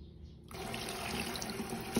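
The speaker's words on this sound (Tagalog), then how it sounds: "lalagyan ko na ng tubig" Water pours into a cooking pot while making moringa tea, a close, steady splashing gush that starts abruptly after a short quiet moment and runs continuously.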